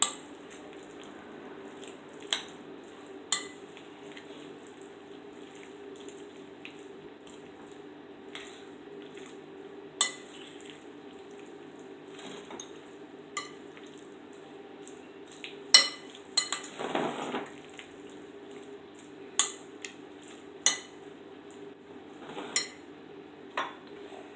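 Pasta and green peas get mixed together in a pan, with sparse light clinks and scrapes of a utensil against the metal over a quiet kitchen background.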